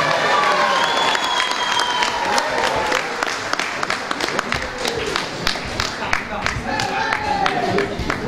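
An audience at a Mouvement Patriotique party congress in Mauritius applauding steadily, sharp hand claps filling the hall for several seconds with some crowd noise and cheering mixed in.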